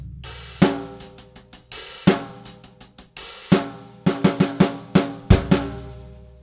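Acoustic drum kit playing two bars of a song as a rock and pop lesson example: close, punchy kick, snare backbeats and hi-hat strokes, ending in a quick fill, with no talking.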